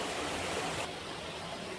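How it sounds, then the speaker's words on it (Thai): Waterfall at Phlio Falls in Chanthaburi: a constant broadband roar of falling water, steady and fairly loud, filling the whole stretch with no pauses. "น้ำตกจ้า"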